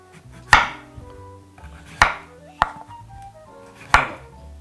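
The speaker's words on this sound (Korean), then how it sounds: "이 친구가 일단 모든 야채를 깍둑 썰기로 썰어주래거든요" A kitchen knife dicing vegetables into cubes on a cutting board: four crisp, close chops at uneven intervals, with short quiet gaps between strokes.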